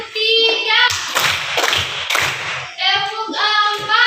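Children in a classroom clap in a counted rhythm, giving a few quick bursts of hand claps between stretches of an adult voice chanting the count, close and loud.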